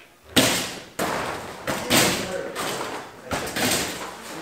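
Wooden drawers in a house are yanked open and shoved shut during a frantic search, giving a series of loud thumps and slams with rattling and rummaging between them, close by.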